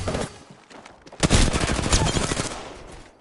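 Rapid bursts of weapon gunfire in the Apex Legends video game, loud and close, with a dense volley of shots rolling for about two seconds after a quieter lead-in.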